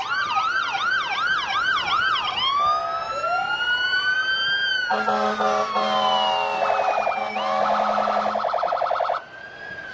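A fire truck from the Evans County fire department in a festival parade, cycling through wailing and yelping siren tones and then a blaring horn, loud and close for nearly the whole stretch.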